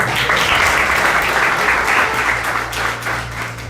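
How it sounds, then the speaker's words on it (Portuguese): A church congregation clapping steadily during a sermon, a dense wash of applause with a low hum underneath. "Vamos aplaudir, irmão."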